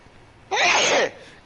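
A single loud, close sneeze lasting about half a second, bursting out sharply from a quiet background.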